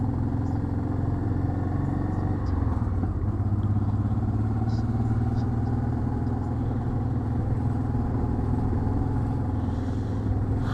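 Motorcycles and other vehicles gather at a ferry entrance in Norway, a steady low engine rumble and idling drone continuing at moderate level throughout with no voices.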